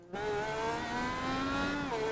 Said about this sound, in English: We hear some engine revs on pit road.